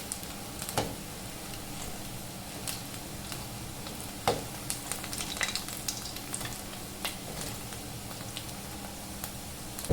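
Medu vada, urad dal fritters, deep frying in hot oil, with steady crackling sizzle, scattered pops and a few sharper clicks from a utensil, close and continuous.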